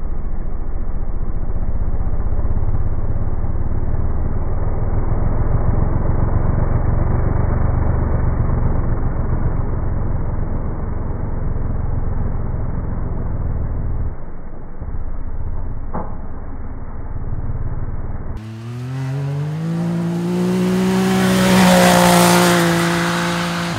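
A Can-Am Maverick X3 side-by-side fitted with an MBRP exhaust revs hard climbing a hill, a loud sustained engine roar, then a sharp rising rev that swells to a peak near the end.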